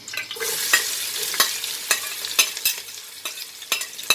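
Onions sizzle in a cup of hot cooking oil with curry leaves, a steady bright frying hiss broken by repeated scraping stirs of a spatula, close and alone.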